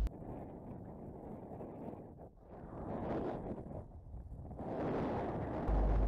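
Strong gusty wind buffets the microphone during a December hare hunt, a heavy low rumbling roar that swells and dips with each gust and never lets up, with no talk.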